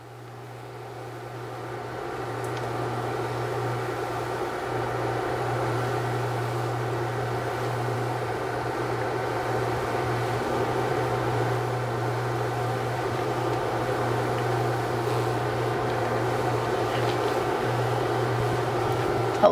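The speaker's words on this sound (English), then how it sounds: "Starting to come to a rolling boil." Water heating toward a rolling boil on a stove, a steady broadband rumble with a low hum beneath that holds for the whole stretch and thickens slightly toward the end, with no talking.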